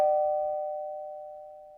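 A doorbell chime rings out once indoors, one clear tone that rings on and slowly fades, heard alone.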